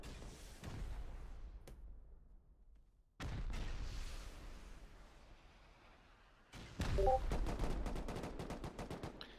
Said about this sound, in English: looks like they're just lobbing rockets